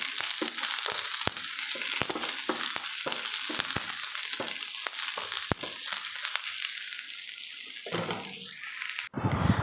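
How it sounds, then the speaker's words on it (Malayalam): Shallots and curry leaves sizzle and fry in hot oil in a pan, a steady crackling hiss with stirring scrapes throughout, close and loud, ending in a brief burst of noise. "എണ്ണ ഒന്ന് ചൂടായി വരുമ്പോൾ നമ്മൾ എടുത്ത് വെച്ചിരിക്കുന്ന ചെറിയ ഉള്ളിയും കറിവേപ്പിലയും ഇട്ടൊന്ന് വഴറ്റിയെടുക്കാം"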